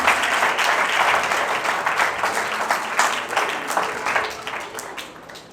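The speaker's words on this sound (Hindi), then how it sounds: "जोरदार तालियां।" Loud, sustained applause rolls through a church congregation during a Mother's Day sermon, dense clapping from many people that stays strong for several seconds before gradually thinning out and fading toward the end.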